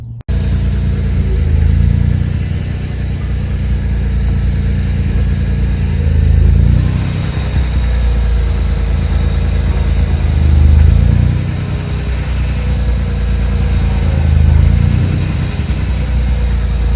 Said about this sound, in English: I'll just start the engine up, rotate, and then put some more in